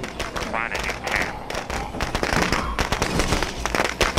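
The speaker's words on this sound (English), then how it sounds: "the best way to take care of these infestations with some firecrackers and the Molotov" Firecrackers bursting on a plague heart in State of Decay 2, a dense, rapid crackle of loud pops and bangs running continuously with mixed game noise.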